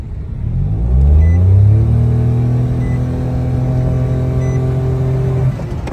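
A track car accelerating hard during a 0-100 time run: a close, loud engine drone climbs steadily in pitch and then holds a strained, sustained roar before easing off, with no talking.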